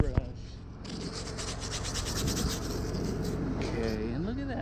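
A small wire brush scrubbing welding slag off a weld on a large metal rack: rapid, close scratchy strokes over a constant background hum, with a person talking over it.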